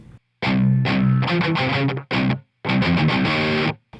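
Heavy distorted electric guitar riff from a song's bridge, in choppy bursts, loud and close, with short pauses between phrases.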